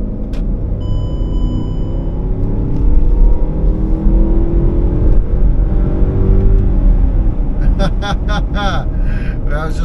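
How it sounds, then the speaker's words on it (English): A 2009 non-supercharged Range Rover under hard throttle in S mode, its engine revving up in a rising roar with a steady rumble underneath, heard from inside the cabin, with a person talking over it. "So what do you say we throw it into S mode, we go hard throttle"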